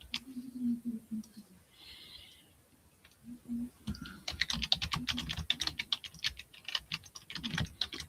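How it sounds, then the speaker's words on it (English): Rapid computer keyboard typing during a live online auction, a quiet voice at the start, then dense fast clicking bursts that build up, close and fairly clear. "I'm typing too fast."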